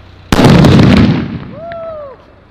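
A VIP firecracker bursts under a metal lota pot at Diwali: one sharp, loud bang followed by a roaring, crackling wash that fades over about a second, then a faint whistle in the background.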